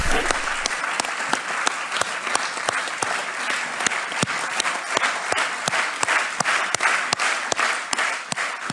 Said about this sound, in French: profitez des applaudissements